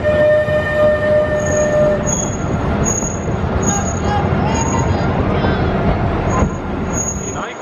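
Pleasure Beach Express ride at Blackpool Pleasure Beach on opening day, a small amusement-park train rumbling steadily along its track with squealing wheels and high tonal whines, heard close from on board with faint voices in the background.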